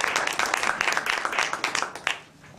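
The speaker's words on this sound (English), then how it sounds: "Are you clapping for me or for her?" An audience claps at a health care forum held by a business chamber, a dense, steady patter of many hands that rises and falls and tapers off near the end.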